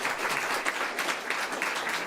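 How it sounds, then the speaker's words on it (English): An audience applauds for contestant Morgan at a voice competition, a dense, steady patter of clapping that is moderately quiet and heard alone. "I would like to hear one more round of applause for Morgan"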